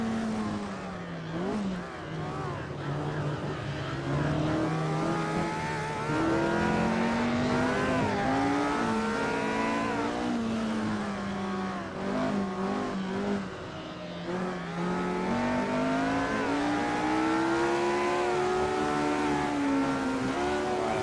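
1965 Formula 1 engines from a BRM 261 and a Ferrari in the racing game Assetto Corsa, a loud, continuous high-revving wail rising and falling through gear changes, with another car's engine passing close alongside.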